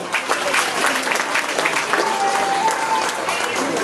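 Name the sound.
audience clapping at elephant show in zoo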